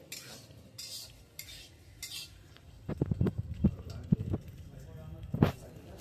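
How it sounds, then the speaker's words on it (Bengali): Moong dal being dry-fried and stirred in a pan at an outdoor picnic. A quiet start gives way to a run of sharp spatula clinks and scrapes against the pan, with a faint sizzle underneath. "দেখুন আমরা এখন মুগ ডাল ভাজছি"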